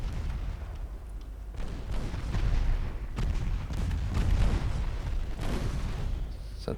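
Warship secondary guns booming in an Ultimate Admiral Dreadnoughts naval battle, a string of dull distant reports rumbling over continuous low sea and engine noise.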